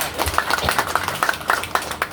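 Audience at an Indonesian political party rally applauding, a thin scattered patter of claps from a distant crowd over a noisy hall, without clear talk.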